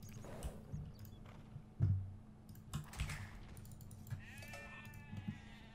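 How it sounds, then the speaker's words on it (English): A few short sheep bleats from Age of Empires-style strategy game play sound low in the mix, scattered among faint keyboard clicks and soft tapping. "That's my other sheep."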